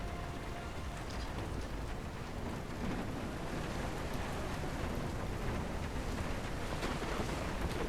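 Steady, dense rainfall with a low rumbling undertone from the weather effects of an indie video game, constant and fairly loud throughout, with no voices.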